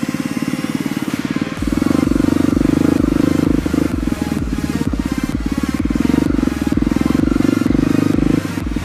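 Enduro motorcycle on a high mountain trail, its engine chugging close by at idle with a few blips of the throttle and an even, rapid pulse between them.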